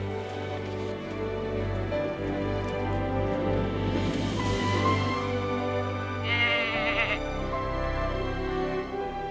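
Goats bleat over a dense, steady wash of outdoor noise in a remote Himalayan village in Mustang, Nepal, with one clear wavering call standing out near the end.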